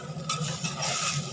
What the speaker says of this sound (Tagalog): ihalo-haloan lang muna natin yan